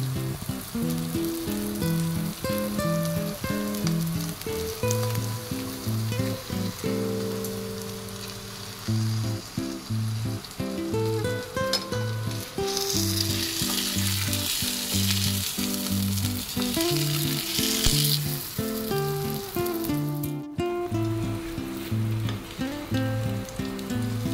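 Vegetable paratha fries on a hot pan with a loud, continuous sizzle that holds steady from start to finish.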